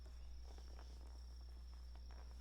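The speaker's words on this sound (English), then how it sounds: "You hear the regular sound of crickets and toads." Crickets trill steadily at night, a continuous high-pitched chirring heard faintly alone over a low background hum.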